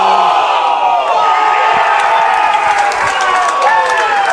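A large crowd at an Australian rules football preliminary final cheers and roars loudly and steadily throughout, with a commentator's voice speaking over it.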